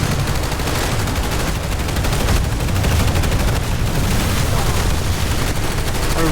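Dense, nonstop automatic gunfire from many weapons during a Planetside 2 tower-defense battle, a loud, continuous clatter of overlapping shots and impacts with no gaps.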